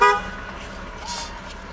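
A short car horn toot blares close at the start, then drops away to quiet background hum.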